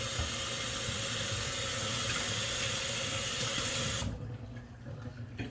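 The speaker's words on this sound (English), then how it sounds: "Just give my hands a quick wash." A kitchen tap runs steadily into a sink while hands are washed under the stream, an even close splashing hiss that cuts off near the end, leaving quiet room tone.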